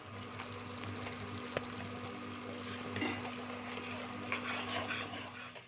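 Thin sugar syrup for semai bubbling up to a boil in a pot, a steady low simmering hiss and faint watery burble continuing throughout with small clinks, no talking.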